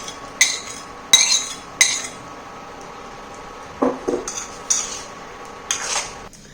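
Boiled potatoes go into a pan as metal utensils clink and tap against it: several sharp knocks spaced out, then soft squishy thuds and more clinks, close and intermittent with no talking.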